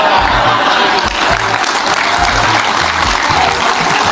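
Loud, dense clapping from a large crowd at a haul gathering for KH Abdurrahman, continuous and close throughout, with a preacher's amplified voice running under the applause.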